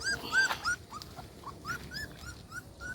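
Stray puppies whimpering and yipping in a rapid run of high, thin cries close by, repeating about every quarter second over low background noise.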